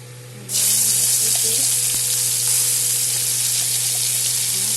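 Black cumin and a paste hitting hot oil in a pan for a Bengali bhorta, a sudden loud sizzle that bursts in after a brief quiet start and keeps frying steadily close by.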